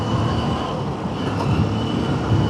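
A train rumbles past steadily below a bridge. Its dense low roar and rattling wagons hold at a constant loud level with no break.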